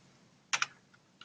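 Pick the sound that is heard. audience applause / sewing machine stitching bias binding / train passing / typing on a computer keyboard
typing on a computer keyboard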